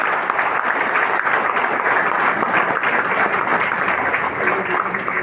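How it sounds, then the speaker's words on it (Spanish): An audience at a Spanish-language rally or community address claps in a steady, dense wash of applause that holds at an even volume from start to finish, with faint voices blending into the noise. "¡Aplausos, por favor!"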